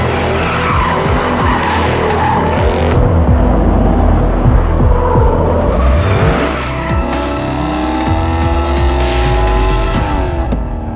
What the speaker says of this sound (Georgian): 2014 წლის Ford Mustang. 5-0, 420 ცხენის ზალით.